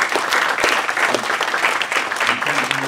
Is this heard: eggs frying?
no